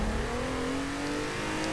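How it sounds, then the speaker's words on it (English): A car engine in Forza Horizon 4 revving high and steady, its whine climbing slightly in pitch throughout a short, loud, continuous burst. "It's a high revving engine as well"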